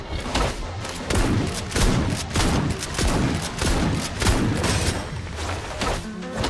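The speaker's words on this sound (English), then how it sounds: "Here comes the fire!" Dense gunfire in the video game Silver Palace, a continuous loud barrage of overlapping shots and booms that never lets up.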